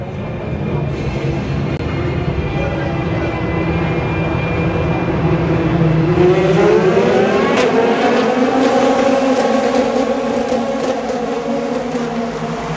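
European Le Mans race cars pass at the Barcelona circuit, a loud continuous roar with a rising and falling engine sweep in the middle as a car goes by, and no talk.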